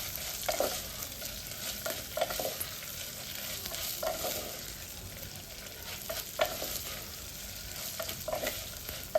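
Garlic with dried red chillies and green chillies frying in a pan, a steady sizzle running throughout with occasional stirring scrapes, close and moderately loud, no talking.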